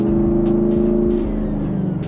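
The 6.2 liter V8 of a 2010 Chevrolet Camaro SS rumbles loud and close, a deep steady engine drone with rising revs and no talking.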